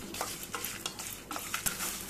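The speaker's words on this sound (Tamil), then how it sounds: "மீடியம் ஃப்ளேமில் வச்சு வறுத்துக்கலாம்." Chana dal, cashews, dried red chillies and curry leaves dry-roasting in a pan over medium flame for sambar, with repeated scraping stirs and a soft sizzle in a steady rhythm, close and with no talking.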